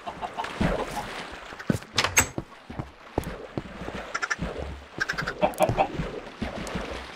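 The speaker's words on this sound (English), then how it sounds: "Oh, those chickens wanna leave so bad." Penned chickens in Minecraft give repeated short clucks in an uneven rhythm, mixed with scattered bumps and game sounds, fairly close and moderately loud.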